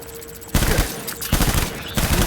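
Bursts of rapid gunfire from the video game Death Stranding, two or three loud volleys of overlapping shots separated by brief lulls, close and dense.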